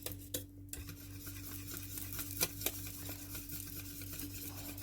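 A flour-thickened sauce whisked in a pan, quiet rhythmic scraping and light clinks of the whisk over a low steady hum, close but faint.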